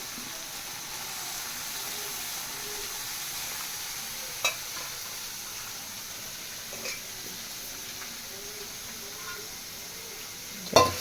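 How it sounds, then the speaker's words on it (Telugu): Washed ridge gourd peel frying in a little oil, a soft continuous sizzle and hiss with occasional stirring clinks of a utensil against the pan. "ఇదిగోండి మంచిగా కొంచెం నూనెలో గోలాలి."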